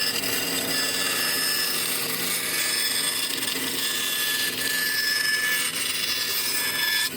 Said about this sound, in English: So we'll just sand them all even.